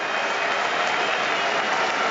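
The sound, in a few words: cricket crowd at Trent Bridge rising and applauding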